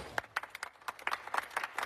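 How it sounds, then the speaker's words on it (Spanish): A small group claps in scattered, uneven bursts for a minute of applause at a memorial tribute, fairly quiet and close, without talking. "yo me gustaría que le dieras un minuto de aplauso"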